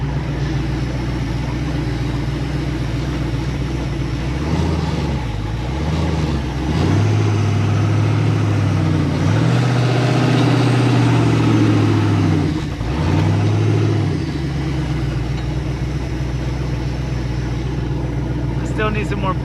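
Engine of a TMR chassis car rumbling on a test ride, a steady low drone that rises and falls with revs, loud and close throughout with no talk.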